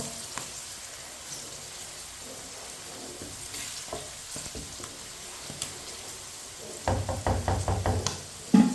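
Peas and carrots frying in a pan, a steady soft sizzle with scattered stirring knocks, growing louder with a burst of scraping and clatter near the end; no talking.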